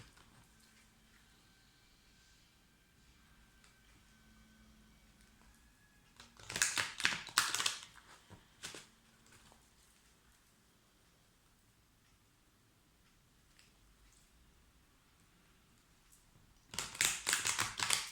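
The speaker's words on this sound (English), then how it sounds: "if I shuffle these cards correct, pop out a little bit different" Tarot cards being shuffled, two separate bursts of quick riffling and tapping close by, with long quiet stretches between them and no talk.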